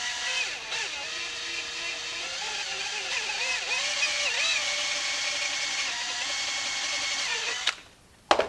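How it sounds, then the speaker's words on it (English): Close, high-pitched whine of a power drill with a dull bit grinding into a plastic Halloween skeleton, its pitch wavering under load before it cuts off near the end. "this drill bit is really, really dull."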